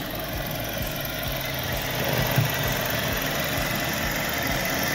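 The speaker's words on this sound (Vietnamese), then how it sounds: "Động cơ này chúng tôi đang nổ đấy quý vị bạn nhé, nghe rất là êm luôn" A 2020 Kia Cerato 2.0 Premium engine idling, a steady smooth low hum with faint even pulsing, heard close and alone.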